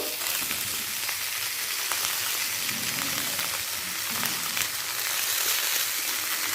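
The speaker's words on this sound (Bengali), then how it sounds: "তা জল থেকে ভালো করে নিংড়ে আলু পটলের সাথে একটু ভেজে নেব।" Soaked, squeezed soya chunks fry with potato and pointed gourd in hot oil, a dense, even sizzle that holds steady throughout, close and continuous.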